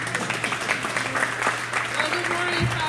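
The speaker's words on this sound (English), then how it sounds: "Let's give your president a big round of applause" A crowd at a gym grand-opening event applauds steadily for the president, a dense, continuous patter of clapping throughout.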